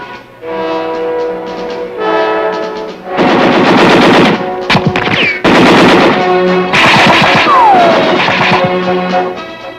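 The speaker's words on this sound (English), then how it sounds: "A target simulating enemy personnel calls for machine gun fire." Army 8th Infantry Division machine gun crews firing at a target that simulates enemy personnel on a range. Loud rapid bursts come in several separate volleys over a sustained tonal background.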